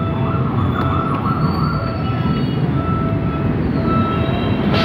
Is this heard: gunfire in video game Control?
no